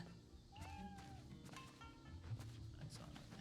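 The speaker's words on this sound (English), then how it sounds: "I heard a kitty." A cat meows several times in the video game Fate Samurai Remnant, short rising and falling mews at fairly low volume over soft game ambience.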